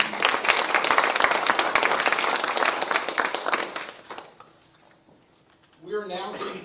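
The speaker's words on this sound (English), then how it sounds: "That deserves applause." A council meeting audience breaks into applause, dense clapping for about four seconds that trails off to near silence before a voice begins speaking.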